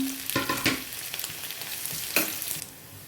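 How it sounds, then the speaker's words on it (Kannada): Onions frying in a pan for a fenugreek-leaf and raw-banana stir-fry after mustard seeds have popped, a steady close sizzle with a few sharp scraping stirs near the start and one more midway. "ಈಗ ನಾನು ಈರುಳ್ಳಿ ಹಾಕ್ಕೋತೀನಿ ಈರುಳ್ಳಿ ಒಂದು ಸ್ವಲ್ಪ ಫ್ರೈ ಮಾಡ್ಕೋತೀನಿ"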